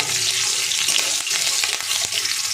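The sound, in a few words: cumin and green chilli frying in oil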